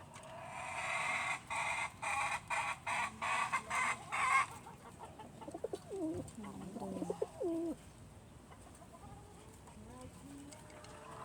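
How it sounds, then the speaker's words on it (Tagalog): Hens and a rooster clucking close by, with a run of rapid, rhythmic clucks followed by softer, drawn-out calls that fade into quiet. "Yung hen natin ito."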